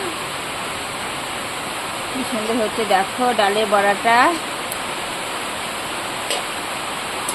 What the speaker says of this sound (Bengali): এই দেখো বন্ধুরা প্রচুর পরিমাণে বৃষ্টি হচ্ছে